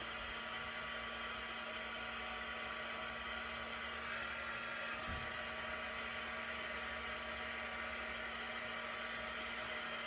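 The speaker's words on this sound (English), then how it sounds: "I'm again going to take my heat tool and on the low setting, so number 1" Heat tool on its low setting drying a wet watercolour card gives off a steady, faint blowing hum throughout, soft and continuous with no talk.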